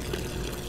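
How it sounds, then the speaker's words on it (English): A watering can pours water onto flowers in the video game Surface 3, a steady, fairly loud trickling splash that runs continuously without breaks or speech. "I've been holding on to this watering can"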